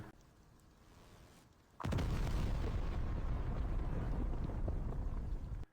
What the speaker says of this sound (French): le robot explose